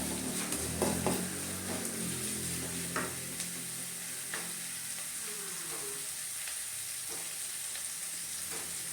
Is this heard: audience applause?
no